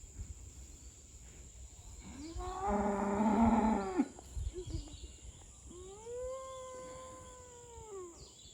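Cows mooing outdoors: two long, drawn-out moos a few seconds apart, the first louder and fuller, the second softer, over steady background hum and no talk.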